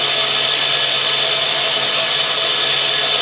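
A 60 grit grinding wheel grinds a centre punch, giving a steady, continuous high-pitched hiss and whine at constant level throughout, close by with no talk.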